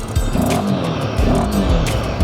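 A motorcycle engine struggling and losing power at about 18,000 feet in the Himalayas, rough uneven revving and sputtering up close, loud and continuous.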